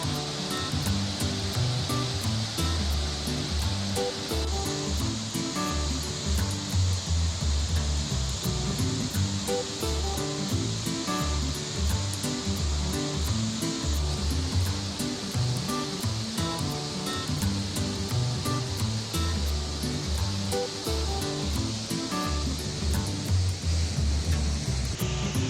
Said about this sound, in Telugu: అగో మన పొచ్చర్ల జలపాతం చూడురోలా.